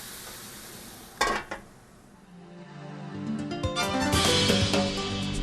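Fish simmering in a sauce after a splash of water is poured into the pan: a short clatter, then a rising, steady sizzle and bubbling that settles into a continuous frying hiss, heard alone without talk.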